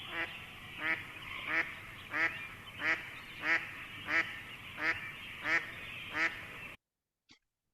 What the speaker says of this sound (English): quacking usually means a duck of some sort